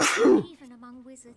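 A character in the fantasy role-playing game Divinity: Original Sin gives one sharp sneeze, and a voice then speaks right after it.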